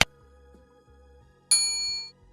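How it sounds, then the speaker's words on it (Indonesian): A subscribe notification bell effect sounds a sharp metallic ding at the start, then a second bright ringing chime about a second and a half later that rings out for over half a second before cutting off. "jangan lupa tekan tombol loncengnya supaya kalian mendapatkan notifikasi setiap kali saya upload video"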